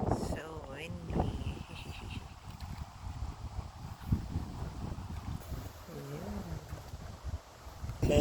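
Wind blows steadily across the microphone outdoors during a fishing trip near water, a continuous rumbling gust that stays loud throughout, with a person talking briefly over it at the start and again near the end.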